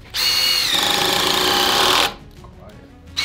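A cheap Amazon power drill whirs at steady high speed for about two seconds, then cuts off, leaving a quiet pause before a brief restart at the end.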